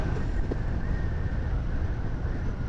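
Steady wind rushes and buffets the microphone at a mountain viewpoint above a sea of clouds at Quirino, Ilocos Sur, a constant low roar with no voices.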